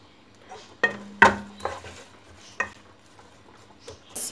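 Chopped onions softening in a pan on a home stove for spiced spinach: a short hiss and metallic clatter of a utensil against the pan, then a few scattered clinks and scrapes over a low, steady background, with no talking.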